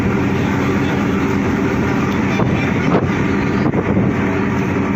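A strong storm wind roars at sea aboard a ship, a loud, continuous buffeting rush with gusty swells and a low rumbling undertone, heard without talk.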